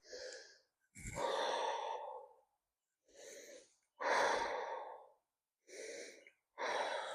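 A person breathes deeply through a stretching exercise in a series of audible, close inhales and exhales, each lasting about a second, separated by short pauses and with no talking.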